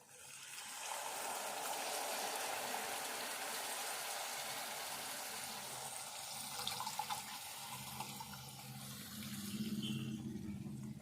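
Tamarind water poured into a pan of oil-fried chili powder while cooking a small-fish curry, a steady rushing pour lasting several seconds that shifts into a lower bubbling simmer toward the end.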